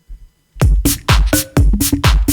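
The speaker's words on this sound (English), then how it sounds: "That's drum 2. That's pretty distinctive. You can hear the congos." Drum loop with congas played on an Akai MPC One for a progressive house beat: a brief faint tap, then a steady run of punchy kick and hand-drum hits with bright crisp attacks, loud and close, with no voices.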